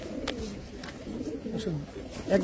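Pigeons at a seller's loft, among them a young deep-blue-eyed squab, give several soft rolling coos nearby in a continuous murmur, with a sharper note near the end.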